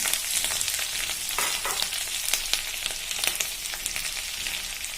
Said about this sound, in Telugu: గరం మసాలా తర్వాత ఉల్లిపాయ పచ్చిమిరపకాయలు వేసుకున్నాం